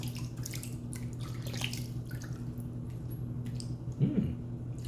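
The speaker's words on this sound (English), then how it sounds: "We'll give one more quick rinse." Water runs steadily from a tap while a face is rinsed during a shave, a soft continuous hiss with low hum, ending in a brief splashing squish near the end.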